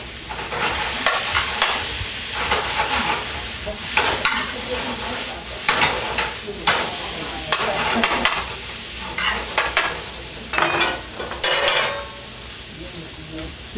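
Onion frying in a hot pan, a steady close sizzle broken by repeated scraping stirs of a utensil against the pan, with someone talking faintly now and then.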